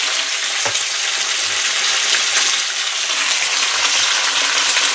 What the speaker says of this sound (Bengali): শিমগুলো দিয়ে দিলাম, দিয়ে শিমটাকে এবারে ভাজবো